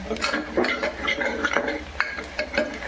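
A spoon stirs masala spices and turmeric in a pan for misal pav, giving close, repeated scraping and light metallic clinks in an irregular rhythm over a low background hum.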